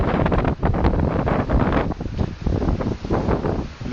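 Gusty wind roars and buffets across the microphone outdoors near trees, swelling and dipping in uneven surges for a few seconds with no talking.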